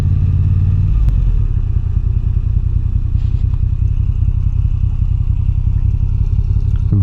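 A 2022 Moto Guzzi V9 Bobber cruiser motorcycle rides along, its engine rumbling loud and steady up close with a throbbing low drone and light mechanical clatter.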